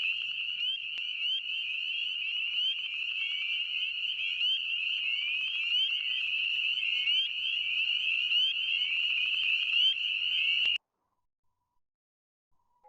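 A dense chorus of spring peeper frogs in West Virginia, many high shrill peeps overlapping into a continuous ringing wall of sound that stops abruptly, loud and steady, with no voices.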